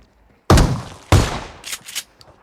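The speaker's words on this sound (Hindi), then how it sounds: "तो यहाँ पे शॉटगन फाइट होती है फिर।" Two sharp, loud shotgun blasts about half a second apart ring out in BGMI gameplay, followed by softer shot-like bursts and clatter.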